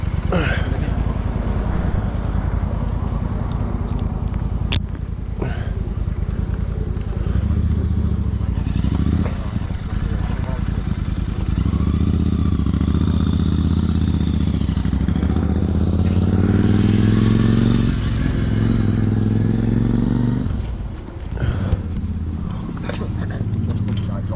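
A Royal Enfield motorcycle engine starts and settles into a loud, close, steady thumping idle that rises and falls with throttle, with people talking over it.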